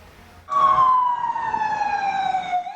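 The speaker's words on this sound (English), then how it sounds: "Ambulances rushing to the scene on Sunday in Turkey's largest city" Ambulance siren wailing through Istanbul's main shopping area after an explosion, a loud, steady tone sliding slowly downward as the vehicle rushes past, starting abruptly after a brief quiet moment with light street noise beneath.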